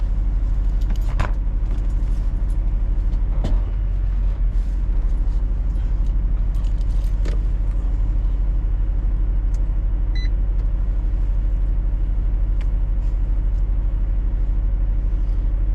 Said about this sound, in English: Truck's gonna shut off.